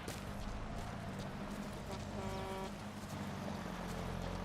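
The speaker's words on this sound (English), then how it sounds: "I hear a car." A car approaches in Metal Gear Solid V, its engine a low, steady drone that holds under the game's ambient sound, moderately distant and fairly faint.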